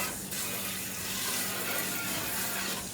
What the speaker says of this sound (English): Get a little water in it.